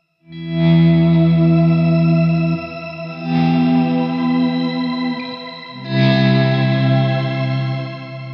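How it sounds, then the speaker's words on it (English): Electric guitar through a Strymon BigSky reverb pedal on octave-up shimmer, three sustained chords swelling one after another, each blooming with a glassy higher octave over the held notes; no talking. "Kind of sounds like you're playing impossible chords"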